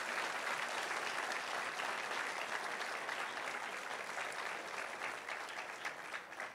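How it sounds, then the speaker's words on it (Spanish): Steady, dense applause from a church audience during an evening program, sustained and fairly even, easing off slightly toward the end. "Vamos a darles un aplauso como un tributo de cariño a ellos."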